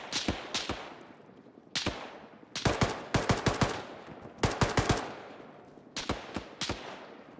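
Rapid bursts of machine gun fire from a video game crack out in short clusters of several shots each, fairly loud with brief pauses between the volleys.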